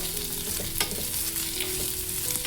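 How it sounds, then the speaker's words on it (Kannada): Oil sizzles steadily in a pan while something is stirred, with light scraping and clinking over the continuous hiss; no voices. "ಇದನ್ನು ಕೂಡ ಫ್ರೈ ಮಾಡ್ಕೋಬೇಕು ಎಣ್ಣೆಯಲ್ಲಿ"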